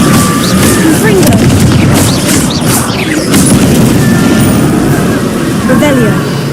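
Confringo explosion spell cast in Hogwarts Legacy, heard as repeated booming blasts and crashes with bright magical whooshes and fizzes across a dense, steady game soundscape, with a voice talking over parts of it.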